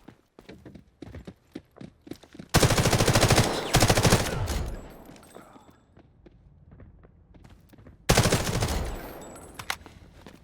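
Bursts of rapid automatic gunfire in the Delta Force video game rattle in two dense volleys, separated by quieter footsteps and scattered clicks; the shots sound fairly strong rather than faint.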